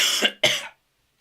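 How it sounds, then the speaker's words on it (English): Two sharp coughs from one man in quick succession, close and fairly loud, then silence. "I have a bit of a cough."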